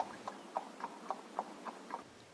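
Horse hooves clip-clop in a steady, even rhythm of about eight distinct hoof strikes, moderately close and alone, set against quiet background for a radio drama effect of riders on horseback heading back to a camp.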